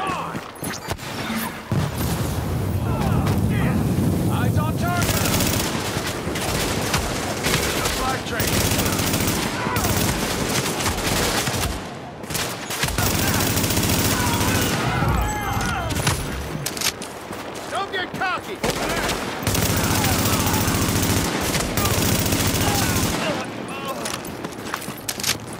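Gunfire from the video game Tom Clancy's The Division, with sustained machine-gun bursts and overlapping shots that rattle loudly through most of the clip, pausing briefly around the middle, with voices shouting among the shooting.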